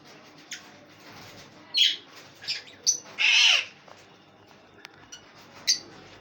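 Pet lovebirds, about eleven months old, give a handful of scattered shrill chirps and squawks close by, with one longer, louder call in the middle against a quiet room.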